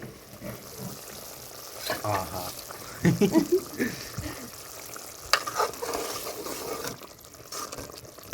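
Mushroom curry bubbles and sizzles in a pan while a spoon scrapes and stirs through it in short bursts, with a voice speaking faintly underneath.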